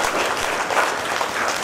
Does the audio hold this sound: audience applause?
yes